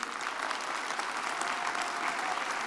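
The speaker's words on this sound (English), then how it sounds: "Let's offer another round of applause to the King Coalition" Audience applause at a Martin Luther King Jr. Day observance program, a dense, continuous wash of many hands clapping from a large crowd, steady and even throughout with no talk over it.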